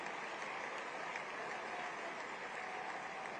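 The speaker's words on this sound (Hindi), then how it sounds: "भाई जोर से ताली बजाइए जरा पूरा सदन" Applause in a parliament chamber, a faint, even wash of many hands clapping continuously without a break.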